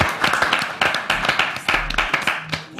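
A studio audience on a French TV show claps in uneven, sharp bursts, individual hand claps distinct and close, with faint murmuring and a low hum underneath.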